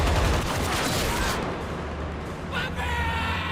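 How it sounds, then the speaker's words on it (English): Heavy gunfire fills a shootout between two opposing teams in a film, a dense rattling fusillade with booming low rumble, loud and continuous, while a voice speaks over parts of it. "a shootout ensues, with the two opposing teams firing at each other"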